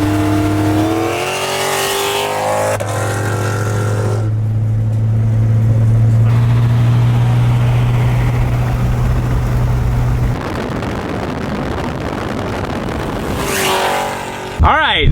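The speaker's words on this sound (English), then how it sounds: "Dave is in the building here driving the Turbo 400 Hellcat." A Turbo 400 Dodge Hellcat, a TH400-transmission car, accelerates hard with a loud engine roar and rising gear pulls from the cabin, its steady drone running for several seconds before a shift, with brief talk mixed in.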